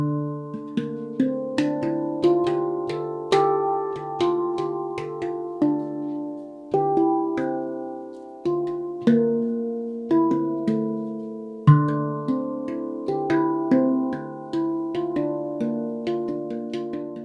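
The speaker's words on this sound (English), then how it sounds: "Let's check out some of the chords you can get with this drum." Meinl Sensory handpan in D Kurd 9 struck to ring out sustained chords, clear bell-like metallic tones blooming and decaying in overlapping clusters, played close with repeated strikes and brief pauses, no voices.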